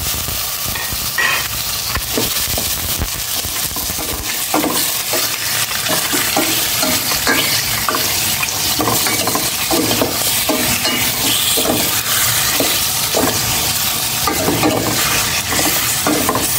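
Pork sautéing in a pan for a mung bean stew, a loud, dense sizzle running throughout with frequent rhythmic scrapes and stirring strokes of a utensil, heard up close.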